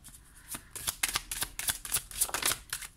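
Tarot cards being turned over and handled on a table, a quick run of crisp papery flicks and slaps, close and quiet, with no talking.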